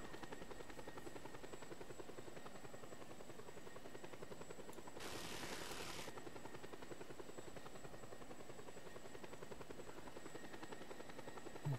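A helicopter in the video game Just Cause 2 flies with a loud, steady rotor drone that continues for the whole stretch, with a brief harsh rushing burst partway through and no talk over it.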